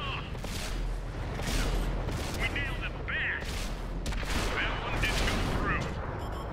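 Rapid bursts of gunfire crackle amid chaotic combat, shots overlapping in ragged clusters over a constant rumbling din, with shouting voices mixed underneath the firing.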